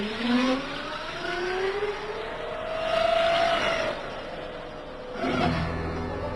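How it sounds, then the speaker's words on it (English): An electric motorcycle accelerates from a standstill, its motor whining upward in pitch, a smooth rising electric tone over road and wind noise, with another surge near the end. "This is an acceleration from a standstill."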